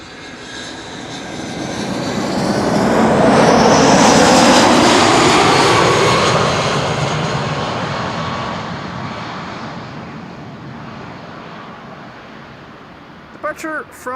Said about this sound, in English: Departure from runway 24 in the background, the Kaagbaan.